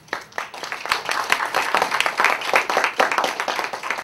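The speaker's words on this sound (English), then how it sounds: "a round of applause for Alvi" Audience at a LEAD ASEAN Summit breaks into applause, a brisk patter of many hands clapping that starts thin, quickly builds and stays lively and fairly close, with no talking over it.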